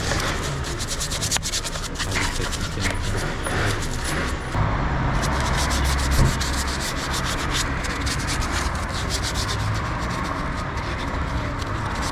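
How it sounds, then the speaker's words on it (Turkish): Steady, close bristle scrubbing of a detail brush cleaning an engine rasps continuously against a hard surface, a dense brushing noise with no pauses and no voices. "Biraz da fırça sesini al."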